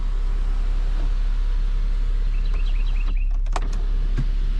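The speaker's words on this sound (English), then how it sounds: "Sunroof." A 2012 Acura TL sunroof motor whirring as the glass panel slides open inside the car, a steady close mechanical hum with a couple of brief higher whines and a soft clunk near the end.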